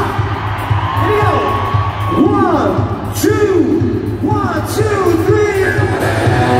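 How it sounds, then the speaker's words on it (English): A crowd of girls cheering, screaming and whistling at a farmers' bash, rising whistles and shrieks repeating in waves over a steady low musical hum, loud and close. "give him a little whistle out there, girls, give him a scream"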